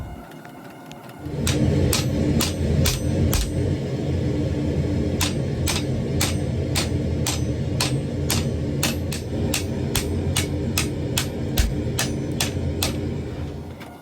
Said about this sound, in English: I forged in the tang and proceeded to finish beveling and tuning everything up in my forge